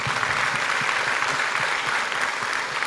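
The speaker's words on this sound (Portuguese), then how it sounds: "Uma salva de palmas para o Robson." Dense, steady applause from an audience at a motivational lecture during a conference event, filling the whole stretch at a constant level with no voices breaking through.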